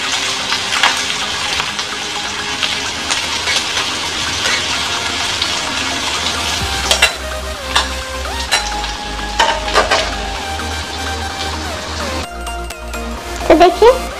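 Onions frying in oil in a pan until golden brown, a steady broadband sizzle with scraping stir strokes and a low droning hum through the second half.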